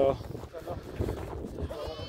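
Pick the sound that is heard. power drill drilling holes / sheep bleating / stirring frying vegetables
sheep bleating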